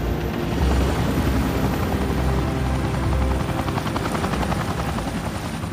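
A helicopter setting down in a tight, confined landing spot in Venezuela, rotor blades whirling with a loud, steady chopping drone that stays close and continuous throughout.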